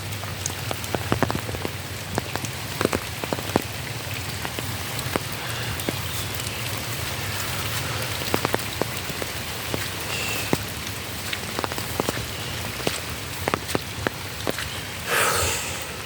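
Rain falls steadily on a wet day, making a constant close hiss with scattered sharp drips and patters throughout, a brief louder rush near the end, and no voices.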